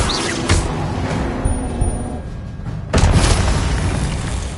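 Confringo fire spell in Hogwarts Legacy going off as a loud, dense blast, with a steady roar of combat noise and a second sharp burst about three seconds in.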